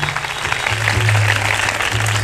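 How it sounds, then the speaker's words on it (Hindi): An audience claps together in a steady, dense wash of applause that holds for a couple of seconds, with a low droning tone underneath. "जब आप लोग तालियां बजाते हो ना,"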